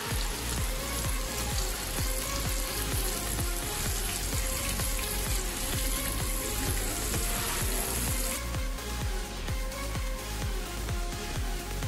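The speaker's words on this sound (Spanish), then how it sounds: "Ahora lo vamos a llevar a freír" Steady, dense sizzling of breaded chicken strips frying in hot oil, continuous crackle and spatter throughout with no voices.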